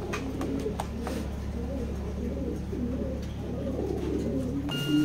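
Racing pigeons cooing in a loft, repeated soft low coos over a steady hum, with a few sharp clicks and faint chirps in the background.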